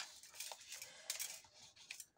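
Scissors snip through a 30x30 sheet of scrapbooking paper while making a folio: a quiet string of short, crisp cuts close by, with no one talking.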